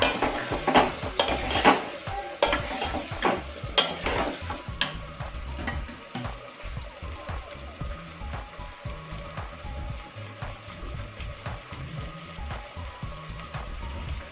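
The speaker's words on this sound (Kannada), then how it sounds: "ತರಕಾರಿ ಹಾಕೊಳ್ಳೋಣ ಆಲೂಗಡ್ಡೆ ಮತ್ತು ಕ್ಯಾರೆಟು ಹಾಗೆ ಇದು ಒಂದು ಸ್ವಲ್ಪ ಇದು ಎಣ್ಣೆಯಲ್ಲಿ ಬೇಯಬೇಕು ಈ ಥರ ಸ್ವಲ್ಪ ಹೊತ್ತು ಅದನ್ನು ಫ್ರೈ ಮಾಡಬೇಕಾಗುತ್ತೆ" Potatoes and carrots frying in oil while being stirred in a pan for a moong sprout sambar, with repeated scraping and clattering of a utensil against the pan over a soft sizzle, busiest early on; no speech.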